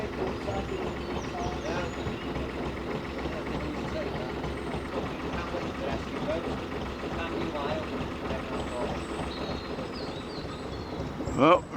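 A narrowboat engine runs steadily with a continuous low rumble and throb, heard close, before entering the Harecastle Tunnel.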